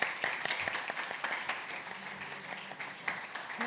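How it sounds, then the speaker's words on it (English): A conference audience gives a faint, moderate round of applause for a panel, with scattered distinct claps over a steady patter and a voice briefly audible underneath. "Can we give our panel a warm round of applause?"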